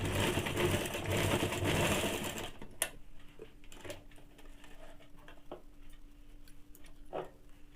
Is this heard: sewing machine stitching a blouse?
yes